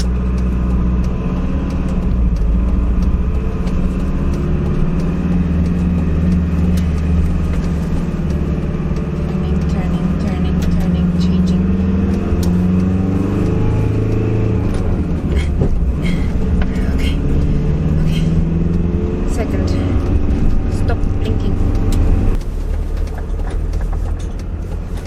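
A van on its first drive eases into a busy roundabout for a right turn. Its engine rumbles steadily and close throughout, with other traffic around it, while the driver talks over the engine noise.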